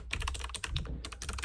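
Fingers type quickly on a plastic mechanical keyboard, a close, steady run of clacky keystrokes with a brief pause midway, no talk.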